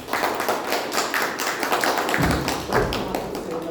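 An audience at a Toastmasters club meeting gives a steady round of applause, a dense, continuous patter of many hands clapping at an even loudness throughout, with no one talking over it.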